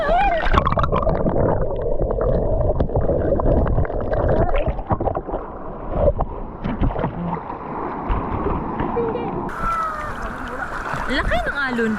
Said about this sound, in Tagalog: Laki ng alon.